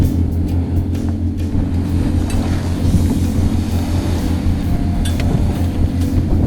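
A 15-ton boat's engine drones low and steady while the hull pushes through waves, a continuous rumbling wash with no voices.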